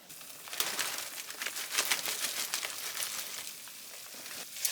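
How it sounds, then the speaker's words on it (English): Ground beef with frozen peas and carrots simmers in a pan, giving a steady close sizzle and crackle with scattered sharp pops throughout. "I'm just gonna let this kind of simmer away for just about 5 or 10 minutes"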